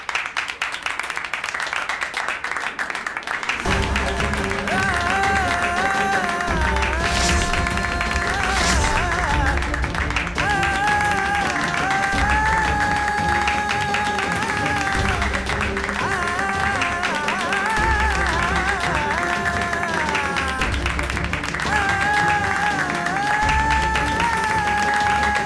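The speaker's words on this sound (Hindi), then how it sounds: "चलिए बजाइए ताली।" Applause and clapping from a studio audience on a Hindi TV drama set run steadily for about twenty seconds, mixed with loud dramatic background music throughout.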